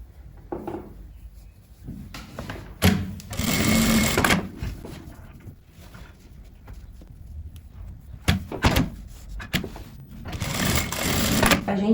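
A sewing machine stitches the crotch seam of fleece sweatpants in short bursts, fast motor-driven needle clatter starting and stopping between quieter pauses with fabric handling.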